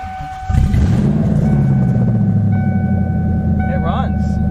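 A 1996 Ford Mustang Cobra engine with no exhaust fitted fires up and settles into a loud, raw, rumbling idle, close by and steady after a brief quiet start, with a faint high whine riding over it.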